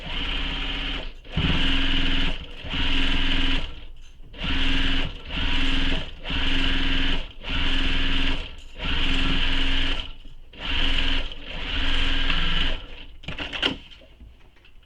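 A sewing machine stitches across a tote bag seam in about eight steady, close bursts separated by short pauses, ending with a few light clicks.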